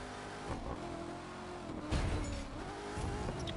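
Car engine in the racing game The Crew 2 drones steadily with rising revs, a continuous near roar with a brief louder surge midway and no talking.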